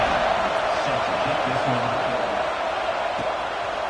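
A football stadium crowd makes a steady, loud roar in the fourth quarter before a kickoff, with faint whoops rising from the continuous wash of voices.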